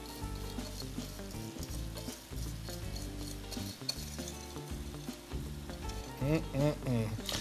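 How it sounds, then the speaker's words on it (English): A warm caramel mixture is stirred into a bowl of pecans, giving a soft, sticky scraping and stirring under steady background music that stays louder than the food sounds. "we're just gonna take that caramel mixture and add that right to our pecan mix"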